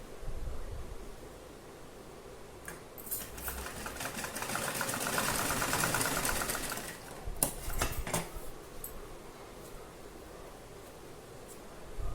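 A sewing machine stitches a cotton roti basket, a bread cover, with a sustained mechanical whir that rises in the middle. Sharp clicks and rustles of fabric handling come near the end, with no speech.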